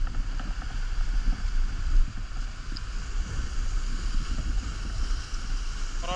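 Small boat motor running out at sea on a diving and fishing trip, a steady low droning rumble mixed with wind buffeting the microphone and water noise, continuous and fairly close, with no clear speech.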